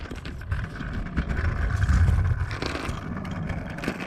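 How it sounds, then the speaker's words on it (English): Steady rumbling and scraping of small scooter wheels rolling over pavement, recorded on a GoPro Hero 7 Black, with low vibration and wind buffeting, continuous and close. "This is me on a scooter"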